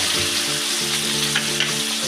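Potato pieces frying with turmeric in a pot of hot oil for a cabbage kofta curry, a loud continuous close sizzle with light stirring, no voices.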